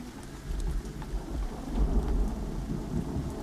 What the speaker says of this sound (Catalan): Del xim-xim passà la plovina i de la plovina el xàfec